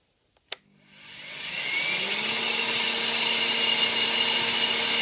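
A Dyson DC16 vacuum motor powered from a bench supply at 10 volts clicks on and spins up over about a second into a steady, loud, high-pitched whine that holds alone.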